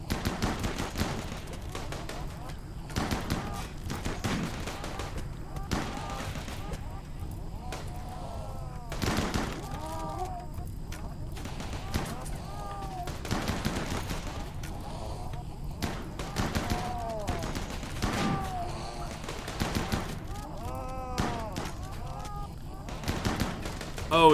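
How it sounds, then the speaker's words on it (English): Rapid SMG bursts in a RimWorld swarm battle, repeated volleys of gunfire with frequent sharp peaks over a busy din of combat and game noise, with talk intermittently over it. "Yeah, I do have an SMG."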